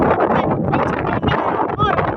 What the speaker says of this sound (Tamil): ரொம்ப காற்றடிக்குது.